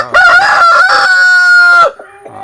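A chicken calls out loudly at close range, one long strained crow that rises, holds, then breaks into a short cluck.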